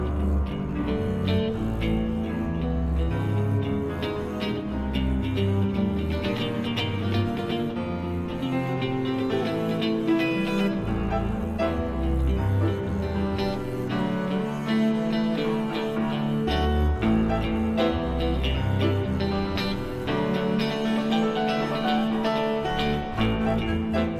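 A played recording of a piece by a chamber group, dense layered instrumental music sustained at steady loudness for the whole stretch, with rhythmic low pulses and busy midrange textures and no voices.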